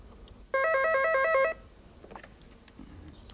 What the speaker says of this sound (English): I'm first going to make a perfectly normal call, as I did before, to Joe from this telephone